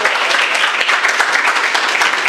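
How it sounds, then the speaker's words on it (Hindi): Dense, steady applause from an audience at a kavi sammelan poetry gathering, loud and continuous throughout with no talk over it. "एक बार इसके सम्मान में तालियां बजा दीजिए साहब।"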